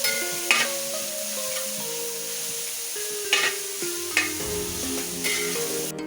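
Onions sautéing in a pan with a pinch of turmeric powder for a dry pepper chicken, a steady soft sizzle with scraping stirs and a few sharp clinks of the spoon against the pan.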